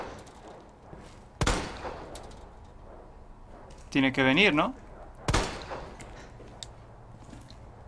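Two sharp, loud gunshots in Resident Evil 2 Remake, about four seconds apart, with brief talking in between and a low game-like background hum.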